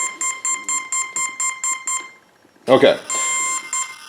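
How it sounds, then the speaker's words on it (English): The electronic speed controller on a ZOHD flying wing beeps after its battery is plugged in with the throttle above zero, a rapid run of bright, evenly spaced tones, then a short spoken word and a longer steady tone. "It was beeping funny because I had my throttle up above 0."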